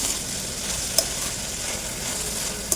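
Tomato is stirred into a bean curry cooking in a pan, giving a steady, close frying hiss with a couple of brief metallic clinks from the spoon.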